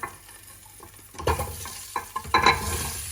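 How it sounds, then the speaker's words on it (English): Lotus root (nadru) sautéed in a pan, with clattering stirs and scrapes of the pieces against the pan in uneven bursts over a quiet sizzle. "We just have to saute them."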